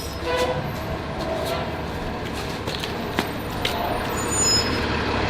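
A garbage truck rumbles past outside a house, a steady low engine drone with hissing brakes and faint clanks, heard from a moderate distance over room ambience.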